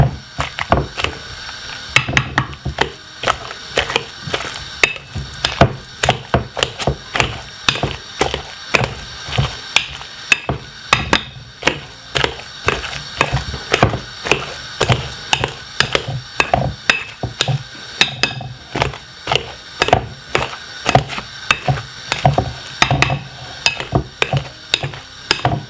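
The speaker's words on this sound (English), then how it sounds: "Then get your masher and mash it." A potato masher pounds cooked potatoes for bangers and mash, making a steady run of loud, repeated thuds and squelching knocks close by that continue without a break. No one speaks.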